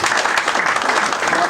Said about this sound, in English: Carlo, please clap for him, clap for him,